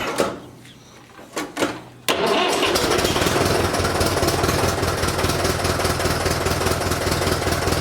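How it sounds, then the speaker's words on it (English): A Fordson Major tractor engine cranks with a few uneven turns, then catches and settles into a loud, steady, close-up running rumble that continues to the end. "we're just gonna quick start the tractor here and test. Make sure nothing leaks"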